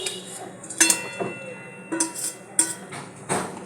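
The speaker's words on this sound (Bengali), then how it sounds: "এবার আমি এতে মাছগুলো আস্তে আস্তে ঢেলে দিচ্ছি" Fish pieces for sarshe ilish are eased one by one into boiling mustard gravy in a pan. Several close, sharp clinks and thuds of metal on the pan come at irregular intervals over a soft background.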